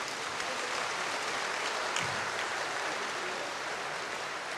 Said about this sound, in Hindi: सभी भाई बहनें जोर से ताली बजाएंगे।